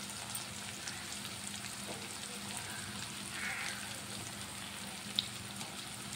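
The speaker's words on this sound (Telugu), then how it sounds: "బాగా ఫ్రై చేసుకుందాం." Spices and chili powder, with cumin powder, fry in a pan, giving a soft, steady sizzle with light stirring scrapes and one brief clink, fairly faint and close, with no talking.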